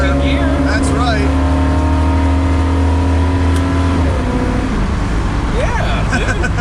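A 1969 Camaro with a loud aftermarket exhaust drives past close up, a deep steady roar with the pitch climbing and then shifting partway through, while people talk over it.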